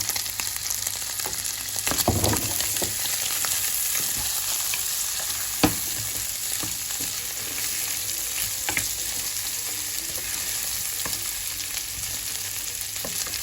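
Carrots sizzle steadily in a hot pan while a utensil scrapes and stirs now and then, with a few sharper knocks against the pan.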